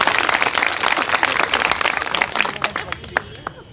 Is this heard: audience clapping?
yes